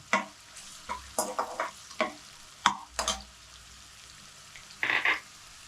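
Ginger and garlic fry in a pan for a potato and fenugreek curry, with a series of sharp spatula scrapes and taps over a faint sizzle and a brighter hissing flare near the end; no voices.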